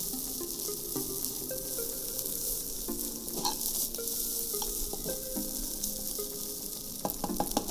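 Japanese fried rice (yakimeshi) is stir-fried in a hot frying pan, giving a continuous crackling sizzle with scraping and tossing clatter from stirring, close and steady with no talking.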